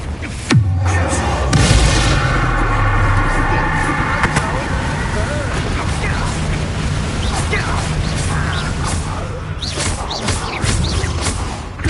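The Bombarda explosion spell from Hogwarts Legacy goes off with a loud booming blast and rumbling debris, followed by dense crackling game effects and clatter that continue for several seconds.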